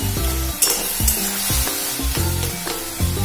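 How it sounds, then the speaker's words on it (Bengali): A metal spatula scrapes and stirs banana stem fry in a hot pan, with rhythmic strokes about every half second over a steady sizzle. "এরকম ভাবে খুন্তি দিয়ে একটুখানি নাড়তে হবে"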